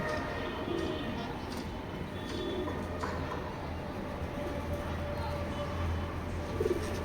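Racing pigeons coo in a loft, low soft calls repeating through steady background noise, with a faint rumble like a passing train underneath.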